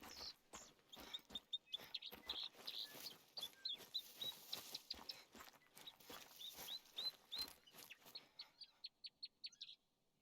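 Birds in The Hunter: Call of the Wild video game, a series of quiet, high chirps and tweets repeating in quick bursts over a background of sharp clicks, with no talk.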